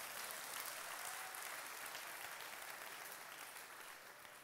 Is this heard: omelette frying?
no